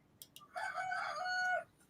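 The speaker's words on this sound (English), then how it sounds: "I heard a rooster in the background." A rooster on a ranch crows once, a single clear cock-a-doodle-doo lasting about a second, a little distant and alone over faint background noise, with a couple of soft clucks just before.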